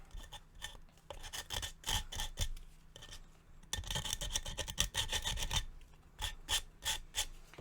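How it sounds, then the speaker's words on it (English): Sandpaper rubbed by hand over cured acrylic on a double-walled glitter shaker cup, a close, dry rasping in irregular back-and-forth strokes with brief pauses, no talk. "I'm going to get my sandpaper to get rid of those bits there."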